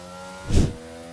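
A single brief rev of an F1 car engine with a gearbox fault in F1 22, swelling and fading within about half a second over a steady engine drone.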